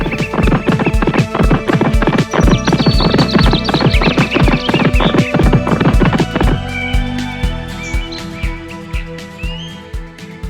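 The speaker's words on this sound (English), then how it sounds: "and so the horse started running" A galloping horse's hooves clip-clop in a quick, steady rhythm under music for about six seconds, then the music carries on with the hooves fading out.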